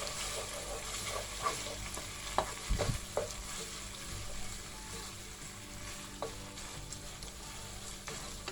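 Ground meat sautéing and being stirred in a pan for stuffed kibbeh filling, a steady close sizzle with occasional scrapes and clinks of the spoon, no voices.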